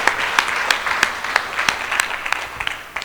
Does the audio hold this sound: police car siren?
no